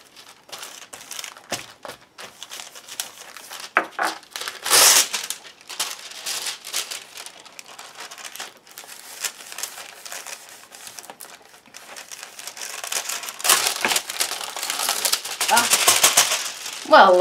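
Thin foil crinkles and rustles close by in irregular bursts, growing louder toward the end, with faint speech underneath.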